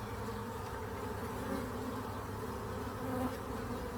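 A steady, dense buzz of many honeybees humming continuously at close range around a nuc hive, with no voices.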